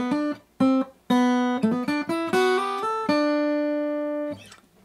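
A melody on steel-string acoustic guitar: a sequence of plucked and hammered notes rising and falling, ending in a long sustained ringing note, played solo and up close.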